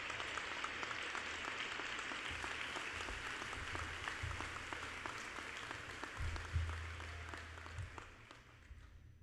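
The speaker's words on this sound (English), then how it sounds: "I think they deserve at least one more round of applause for that." An audience at a high school graduation ceremony applauds a senior choir, a steady sustained clapping from many hands that continues throughout and tapers slightly near the end.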